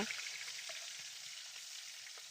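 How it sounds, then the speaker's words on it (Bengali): Koi fish fry in oil in a wok with a faint, steady hiss of sizzling and a few soft crackles throughout. "এবার কড়াইতে তেল দিয়ে তাতে আমি মাছগুলো দিয়ে দিব"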